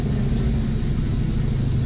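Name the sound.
Dodge Challenger engine idling high with clutch disc noise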